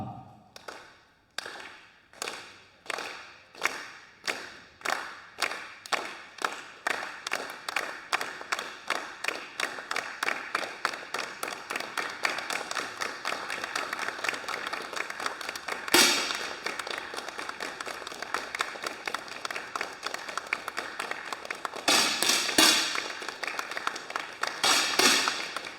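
Many sharp pops of air rifles fired in a women's 10m air rifle final at an indoor range, dense overlapping cracks in a rapid irregular stream with a few louder claps near the end, echoing in a large hall.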